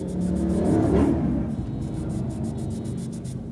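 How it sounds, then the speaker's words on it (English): Drag racing cars somewhere outside, heard as a distant low engine rumble and whir that swells briefly and then settles into a steady background drone. "Drag races out there."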